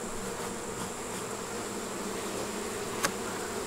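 A dense, steady hum of many honeybees buzzing close by in an open hive infested with hive beetles, with no voices and one brief sharp click near the end.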